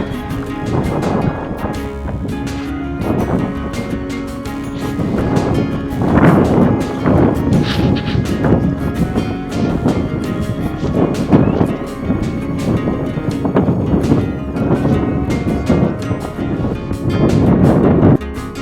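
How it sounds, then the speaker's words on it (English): Strong, cold wind buffets the microphone during an abseil descent in Lesotho, with a constant loud roar and rumbling gusts rising and falling throughout without letting up. "very windy."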